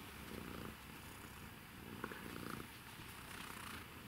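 A sleeping cat purrs indoors: a soft, continuous rumbling purr with a gentle pulsing rhythm, close and quiet, with nothing else heard.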